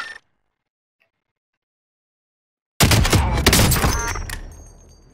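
Gunfire in Call of Duty: Modern Warfare comes after a brief sound and a long silent gap: a loud close cluster of shots and bursts with metallic mechanism noise that fades into a ringing tail.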